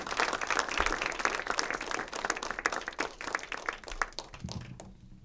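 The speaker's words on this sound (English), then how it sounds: "Give them all a round of applause." Audience applause at a New York poetry reading for worker-writers, a dense steady clapping from a crowd that fades out near the end.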